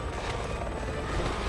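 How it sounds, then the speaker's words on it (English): Helicopter in the video game Resident Evil 6, a loud, dense rotor and engine roar that stays steady and continuous throughout, close and without talk. "that's a helicopter"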